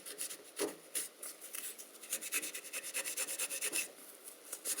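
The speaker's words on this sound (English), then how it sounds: "taking some isopropyl alcohol, just wetting a piece of kitchen roll, and then wiping off the board" Kitchen roll wetted with isopropyl alcohol is wiped across a circuit board in quiet, repeated soft rubbing strokes, close up and faint, with no talk.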